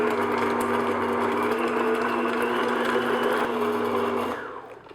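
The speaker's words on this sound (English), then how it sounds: "what I'm going to do now is just beat my butter on like medium speed" An electric mixer beats butter on medium speed for a cake batter, a loud, steady motor whir held at one pitch for about four seconds before it winds down and stops.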